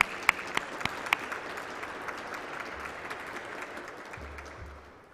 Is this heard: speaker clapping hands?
yes